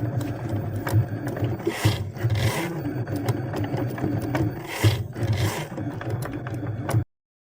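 A Cricut Maker engraves a metal cuff bracelet with a continuous close mechanical grinding and scratching whir, steady and fairly loud, with small ratcheting pulses throughout before it stops abruptly.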